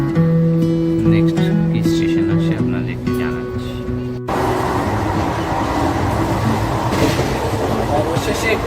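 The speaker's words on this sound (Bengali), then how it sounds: "ট্রেন চলছে তো চলছে" Aboard the Amaravati Express from Shalimar to Vasco da Gama, somewhere in Andhra Pradesh, the carriage gives a constant loud rumble and rattle of wheels on rails, with a tonal hum at the start and people talking over it.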